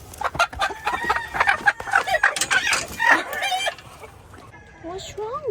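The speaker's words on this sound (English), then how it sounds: "Polish chicken that has a big fluffy crest." A Polish chicken with a big fluffy crest clucks and calls repeatedly, with a short crowing burst near the end, close by outdoors among other fowl and background noise.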